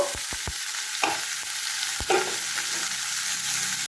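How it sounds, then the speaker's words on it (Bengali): Bottle gourd peels hit hot oil in a pan, a loud steady sizzle punctuated by several sharp spoon clicks and scrapes. "এবার আমি লাউয়ের চোকলাগুলো এর মধ্যে দিয়ে দেব।"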